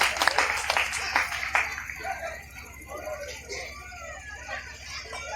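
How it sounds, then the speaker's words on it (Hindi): Short burst of audience clapping at a Hindi poetry recital, loud at first and fading within about two seconds, followed by quieter room sound with faint murmurs. "जोरदार तालियां।"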